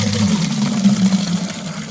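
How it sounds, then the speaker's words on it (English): Water gushes steadily from an outdoor no-freeze spigot on a farm while containers are filled, a loud close rushing flow with a low hum running throughout and no talking. "I gotta fill up some water. So this is a no freeze spigot."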